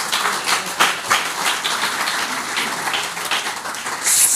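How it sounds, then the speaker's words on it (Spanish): A church congregation claps loudly during a Spanish-language sermon, producing a continuous dense burst of applause that stays strong and fairly close throughout, with no speech. "Denle un aplauso al Señor, fuerte."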